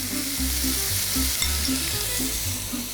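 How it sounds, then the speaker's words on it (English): Onions with salt and cumin seeds sauté in a hot pan, a loud continuous sizzle with a few stirring scrapes and no talking. "Saute the onions until they're light golden brown"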